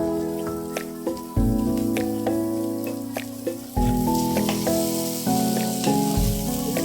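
Raisins are dropped into hot ghee for a halwa made with semolina, eggs and milk. They give a loud, continuous sizzle with scattered crackles, heard under background music.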